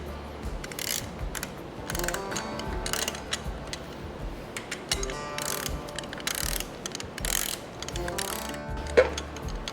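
Oil pan bolts are torqued to 18 foot-pounds on a 12-valve Cummins engine build. A ratchet gives steady close clicking in repeated bursts, with metallic ratcheting pauses between bolts.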